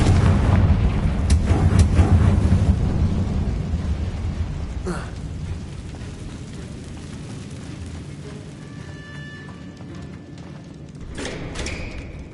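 A Confringo fire spell detonates in a Harry Potter–style video game, a loud booming blast with heavy rumble that slowly decays over several seconds, followed by quieter game ambience and a small late burst.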